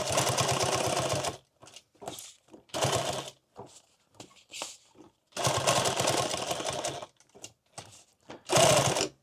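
Sewing machine tacking microfiber fabric for a tactical glasses pouch, several bursts of fast rhythmic stitching separated by pauses with small clicks and handling noises, close and loud.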